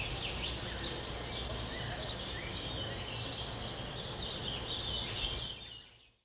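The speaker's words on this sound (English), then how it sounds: "you hear those birds chirping" Birds chirp and call repeatedly at a steady, moderate level over a low background rumble, the calls continuing throughout before cutting off near the end.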